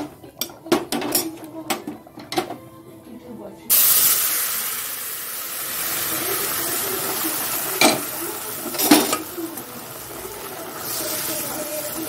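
Spices and dried red chillies sizzle and hiss as they hit hot oil for tempering while chutney is made, a steady bright crackle rising sharply partway through, with clinks of utensils and pans around it.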